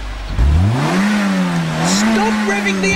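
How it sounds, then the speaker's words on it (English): A car engine revs up from low to a sustained higher whine, loud and close, with the pitch rising, leveling, dipping slightly and climbing again, with no voices. "Stop revving the engine, Sooty!"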